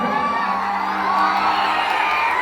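A large crowd at an outdoor stage show in Ara cheers, whoops and shouts loudly and continuously, a dense wash of voices with no clear individual claps standing out.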